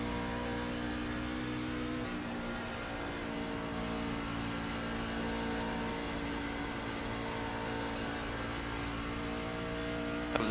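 Race trucks in an iRacing truck series race at Dover drone continuously at high revs, a dense layered engine whine held steady throughout at modest volume.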